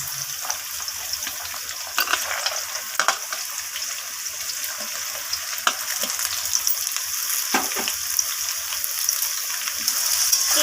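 Continuous sizzling of carrots, beans and other vegetables frying in a pan for veg fried rice, steady and close, with occasional clinks and scrapes of stirring.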